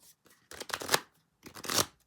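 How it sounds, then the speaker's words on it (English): A Wild Unknown Animal Spirit card deck being shuffled by hand, two quick crisp riffling bursts of cards close up, with brief quiet between them. "I'm gonna shuffle this animal deck."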